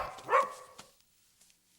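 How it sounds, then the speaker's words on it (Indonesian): A dog gives a single short bark, moderately near, followed by a few faint thumps in a quiet room. "Kecuali aku salah dan menilai dari gonggongan cerita, Dulce Maria sudah datang"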